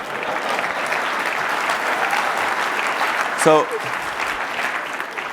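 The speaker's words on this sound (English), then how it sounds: "so stop applauding" Sustained audience applause fills a conference hall at a medical meeting, broad and steady throughout, with a man briefly starting to speak near the end over the clapping.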